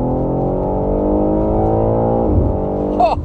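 A 2025 BMW M3 Competition Touring engine holds a steady, loud, smooth drone at constant revs, with a brief rougher burst near the end.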